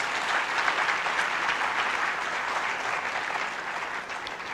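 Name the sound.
audience applause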